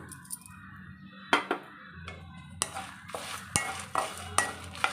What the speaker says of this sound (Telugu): ఇప్పుడైతే ఫైనల్గా కరివేపాకు వేస్తున్నా